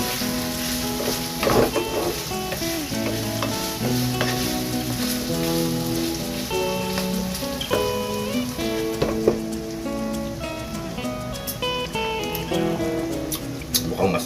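Pork and saba banana frying in hot oil, a steady dense sizzle with crackling pops that runs the whole time, close and loud.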